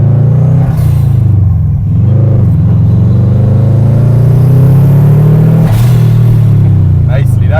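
Inside a tuned Subaru Impreza STi, the engine pulls hard in second gear with a loud, deep rising drone and steady exhaust rumble, heard from the cabin with a brief dip near the start.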